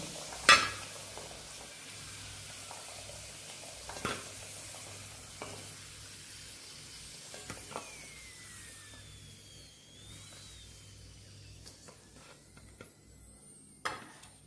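Potatoes fry in a pan for bhoger khichuri, making a soft, low sizzle that runs quietly throughout and is broken by a few sharp clanks of a utensil against the pan.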